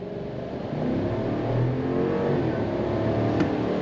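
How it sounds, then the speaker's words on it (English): A 2022 Chevy Silverado High Country pickup with a V8 in sport mode accelerates hard from a dead stop, its steady low engine grunt swelling slightly and holding loud and close throughout, with no talking. "I'm gonna go ahead and leave it in sport mode and we're gonna go on throttle from a dead stop."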